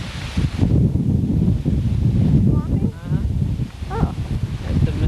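Strong, buffeting wind rumbles against an outdoor microphone near the Mississippi River, with voices talking over it throughout.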